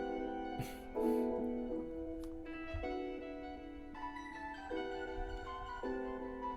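Quantized arpeggiated synthesizer notes from Maschine and FL Studio, stepping through sustained tones in a slow, evenly timed pattern, soft and ambient, with no voices.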